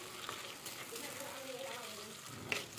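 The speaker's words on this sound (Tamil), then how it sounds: "அதை மாதிரி நல்லா வதக்கி எடுத்துக்கலாம் பாருங்கள்" Chopped onion, green chilli and tomato sauté in oil, a soft, low sizzle heard close but quietly, with a few light scrapes of stirring and a sharper clink near the end.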